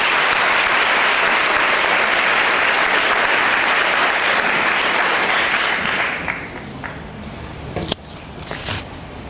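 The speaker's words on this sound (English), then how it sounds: "let's give him another round of applause" An audience in a school program event applauds Hall of Famer Randy Moss, a loud sustained burst of crowd clapping that thins out into scattered claps over the final few seconds.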